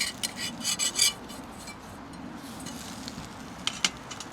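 Hash browns fry in a pan while being flipped: a few sharp scraping rasps of a spatula against the pan over a soft, steady sizzle.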